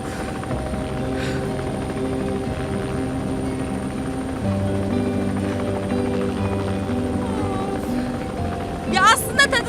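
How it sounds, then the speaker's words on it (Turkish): Steady droning rotor and engine noise from inside a helicopter flying over Istanbul, loud and continuous throughout. "Alt tarafı bir helikopter hadi."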